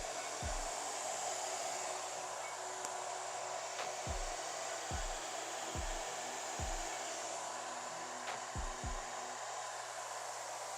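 A blow dryer runs continuously as it dries wavy hair, a loud, close, steady rushing whir with a few soft low thumps of handling scattered through it.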